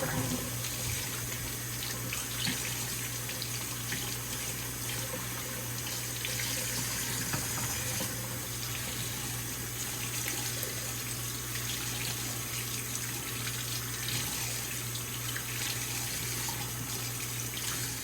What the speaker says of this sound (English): put it in the sink and run some cold water